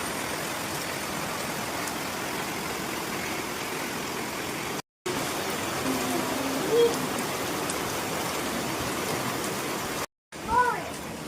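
Steady rain pours down as a continuous broadband hiss across the whole stretch, briefly cut twice, with a faint human voice or two surfacing over the downpour.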